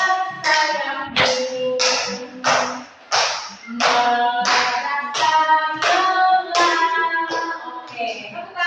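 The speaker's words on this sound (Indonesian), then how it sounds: "Oke, tepuk tangan untuk semua dulu" A class taps out a beat in rhythmic pulses about twice a second. Each strike leaves a ringing, tonal decay, so the hand sounds come across with a musical, processed quality, and nothing is spoken.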